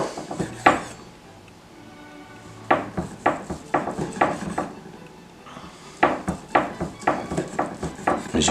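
Knife slicing boiled Tafelspitz beef across the grain on a wooden board, a series of short, close cuts in two bursts with a quiet pause between, each stroke ending in a light tap.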